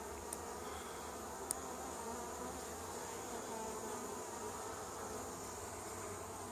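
A honey bee swarm hums steadily around a hive in a faint, even outdoor drone, with a couple of brief ticks near the start.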